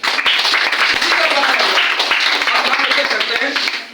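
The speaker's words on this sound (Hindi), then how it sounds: "जोरदार ताली।" An audience claps loudly at a talk on DXN health products. Dense clapping fills the full four seconds and stays close and loud.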